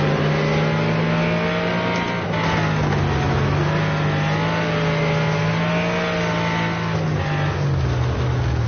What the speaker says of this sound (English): See how I'm downshifting?